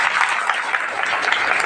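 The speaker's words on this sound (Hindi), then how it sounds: "ताली बजाकर प्रभु को धन्यवाद।" A church congregation claps their hands in praise, a steady, dense wash of many hands filling the room without a break.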